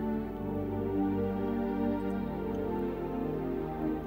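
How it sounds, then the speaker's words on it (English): A warm synth pad made in FL Studio for a gospel beat sustains soft layered chords, low and mellow, changing smoothly partway through and playing alone at moderate level. "And this is the warm pad."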